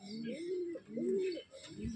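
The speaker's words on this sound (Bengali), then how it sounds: "একদম ছোট্ট পায়রা একটা।" A small female pigeon, a fancy breed kept at home, coos nearby in a few soft, rolling phrases that rise and fall in a steady rhythm, with no talk over it.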